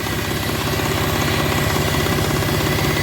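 A non-turbo tractor engine runs steadily at a fixed speed, its loud, even diesel throb pulsing without a break.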